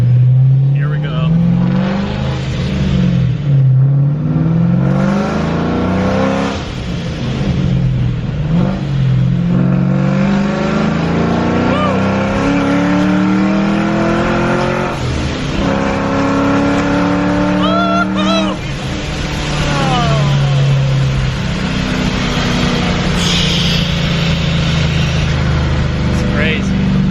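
A loud boosted car engine with a supercharger and blow-off valve revs hard and climbs through the gears, pitch rising and falling with shifts, continuous and close throughout.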